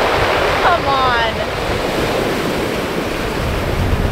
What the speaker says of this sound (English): You gotta listen to these rocks as the waves come down.